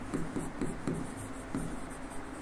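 Chalk or marker writes on a board during a physics lecture, with short scratchy strokes in quick bursts over a steady room hum.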